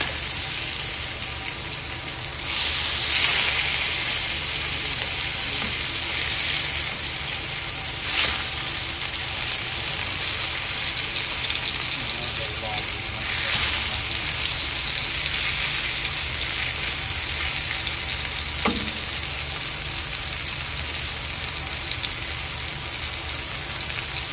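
Thin blackened halibut fillets frying in a hot pan, a loud continuous crackling sizzle throughout, with a few soft scrapes and handling bumps breaking through, no talking.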